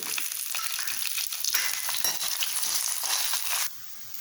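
Dried red chillies and sliced garlic frying in hot oil for a tempering, a close, steady crackling sizzle with faint stirring, that drops abruptly to a softer hiss near the end.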